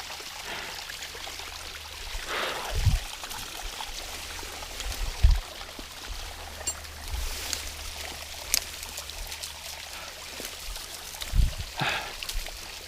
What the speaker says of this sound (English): It's such a pretty waterfall.